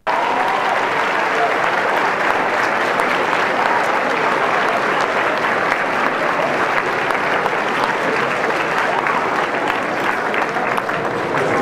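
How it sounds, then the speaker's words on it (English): Long, sustained applause from a large audience for a speaker at a public event, dense and even clapping that holds at full strength without a break. "that applause was a little bit long"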